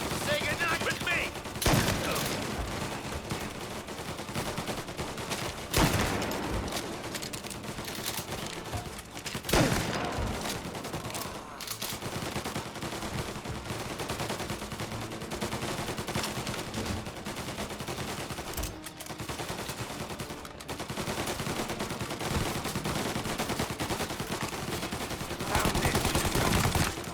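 Tommy gun firing in the Mafia Definitive Edition video game, long rattling bursts of automatic fire with brief pauses and sharper loud shots scattered throughout, under a busy mix of game sound and occasional voices.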